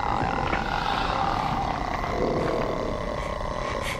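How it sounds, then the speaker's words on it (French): A woman ghost from the Ju-On horror films makes a continuous low, rasping groan with a creaking, croaking texture, sustained and fairly loud throughout, without pauses. "une femme qui rampe en faisant un bruit entre le craquement et le gémissement"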